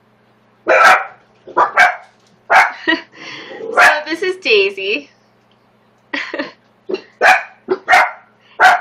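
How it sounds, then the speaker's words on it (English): A dog barks in loud bursts nearby while a person speaks briefly in the middle. "He always barks at things when he doesn't know what they are."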